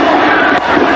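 A packed stadium crowd at a 1992 Cricket World Cup semi-final between Pakistan and New Zealand roars and cheers in a loud, dense, continuous wall of sound with only a brief dip partway through.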